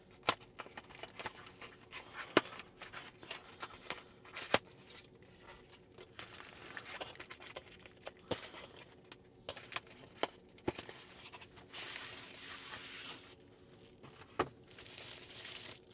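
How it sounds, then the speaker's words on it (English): Taped Jowua matte screen protector packaging being opened by hand, with scattered crinkling, tearing and tape-peeling rustles, close and fairly faint, growing denser and brighter toward the end. "let's open these package contents"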